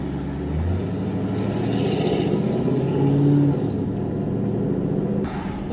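A Trackhawk or Hellcat Redeye makes a drag run with heavy wheelspin, its engine roaring and swelling in pitch midway before settling, heard at moderate volume with a sharp sound at the end.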